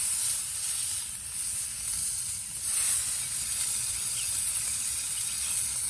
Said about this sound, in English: I'm pushing down the edges here onto the cast iron so that it will get an even sear all over